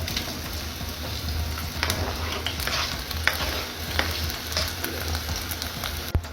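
Onions and garlic frying in a pan while lunch is cooked, a steady close crackling sizzle with occasional stirring scrapes and taps, and no talking.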